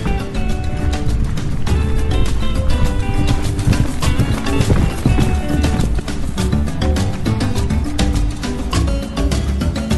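Horseback ride on Easter Island toward the moai, with steady hoof clip-clops under a dense, loud continuous outdoor background that runs the whole time and half-masks the hooves.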